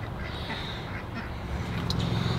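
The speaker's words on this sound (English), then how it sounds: "Silly ducks." Ducks quack intermittently beside muddy water, a few short calls standing out over a steady outdoor background, moderately near and alone without voices.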